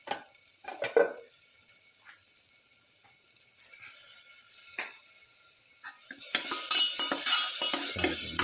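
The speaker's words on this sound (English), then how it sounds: "Try to mix the chili." Ground cashew chili mixture stirred in a pan for a pepper beef cashew stew, with scattered scraping clinks of a utensil early on, then a louder continuous sizzle and stirring rasp building toward the end; no talking.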